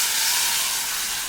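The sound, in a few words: mustard seeds, dried red chillies, curry leaves sizzling in hot coconut oil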